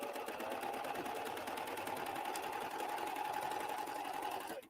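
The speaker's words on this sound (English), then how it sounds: "So you can see I'm kind of like a sewing machine. I'm sewing right on the top of my fabric." A Baby Lock Accolade serger/coverstitch machine stitches a chain stitch across fabric with a steady, fast mechanical whir. It runs continuously at an even level for several seconds, then cuts off abruptly, with no voices.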